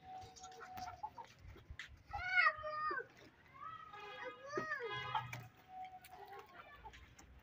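Chickens cluck and call in a series of bird-like vocalizations outdoors on an overcast day, moderately close, with some low background rumble.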